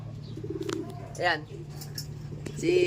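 Pigeons coo softly nearby while a person speaks over them, with a low background hum throughout.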